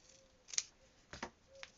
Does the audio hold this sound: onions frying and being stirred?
no